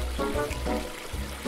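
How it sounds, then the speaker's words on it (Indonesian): Water sprays onto a vehicle being washed in an animated show, a short hissing, splashing stream with uneven pulses. "Semprot saja airnya."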